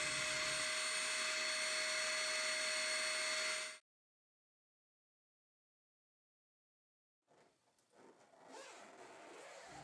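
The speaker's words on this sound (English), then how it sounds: "The noise on the Canister seems louder because the unit is closer to your ears." Hoover Platinum canister vacuum cleaner running loud and steady with a high whine, then cutting off abruptly into silence before faint room sounds return.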